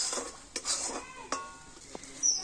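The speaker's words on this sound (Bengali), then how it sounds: "একটু হালকা জাল দিয়ে নাড়াচাড়া করে তো সুন্দর একটা ডো তৈরি করে নেব" Semolina cooked with water or milk into a dough in a pan, stirred with a utensil; faint scraping and clinking of metal against the pan come in a few separate knocks, with no talk over them.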